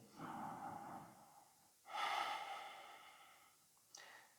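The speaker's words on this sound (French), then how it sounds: "on revient à une respiration profonde et intense, peut-être la respiration Ujjayi" Deep, slow Ujjayi breathing during an Ashtanga yoga practice: a long hushed inhale followed by a long ocean-like exhale, close and quiet, each breath drawn out over a couple of seconds.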